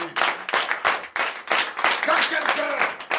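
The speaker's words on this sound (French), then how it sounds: "Donnez l'acclamation à notre Seigneur Jésus." A church congregation claps in quick bursts of applause, loud and close, with voices mixed in among the hands.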